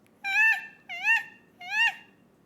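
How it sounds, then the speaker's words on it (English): An unidentified bird of the kind heard in a zoo aviary gives three rising, whining calls, each about half a second long and evenly spaced, clear and close against a quiet background. "That's that random bird that you hear whenever you're walking through the aviary at the zoo"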